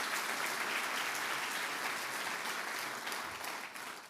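A church congregation applauds in a dense, loud, sustained wash of clapping that fades slightly at the end, with no voice over it.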